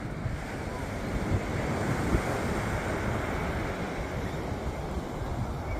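Steady roar of surf with wind buffeting the microphone, a continuous broad wash of breaking waves, no talking.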